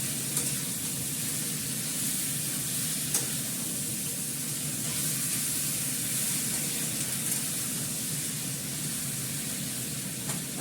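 Hot water poured onto sautéed meat in a cooking pan, a soft continuous hiss and sizzle that holds steady and fairly quiet across the whole stretch, with no talking.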